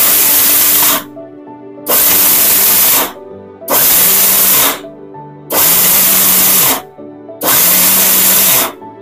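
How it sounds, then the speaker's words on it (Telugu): A mixer grinder blending hair growth powder ingredients with salt runs in five loud, even pulses of harsh whirring grind, each lasting about a second and a half, separated by short silences, close up. "ఇలా మంచిగా బ్లెండ్ చేసుకుంటూ ఇలా రివర్స్లో మనం పల్స్ ఇచ్చినా కూడా చాలా బాగా వస్తుంది"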